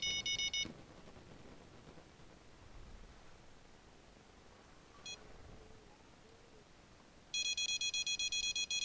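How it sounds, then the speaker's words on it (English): Fishing rod bite alarm in the Fishing Planet video game at White Moose Lake, rapid electronic beeping that sounds at the start, once briefly mid-way, then again loudly at the end over a quiet hiss. "the other rod is also beeping"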